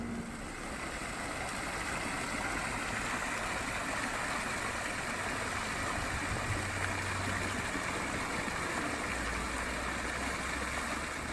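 Water flows steadily from a spring in Palestine, a continuous broadband rush with no breaks, moderately loud and close, with a faint low hum underneath and no voices.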